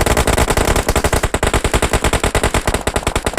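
Rapid, continuous automatic gunfire from an esports battle royale match, loud and close, rattling in an even burst pattern for several seconds with no talking.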